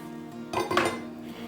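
Crispix cereal party mix is pressed flat in a metal pan, a short scrape and a couple of light clinks of a utensil against the pan in an otherwise quiet moment.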